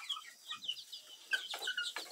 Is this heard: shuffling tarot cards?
no